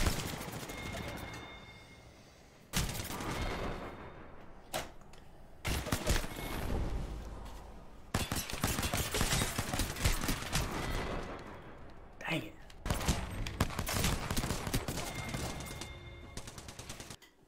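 Heavy gunfire in an online shooter game with a sniper loadout: loud, overlapping bursts and single shots come in waves with brief lulls, and a player's voice talks over the shooting at times.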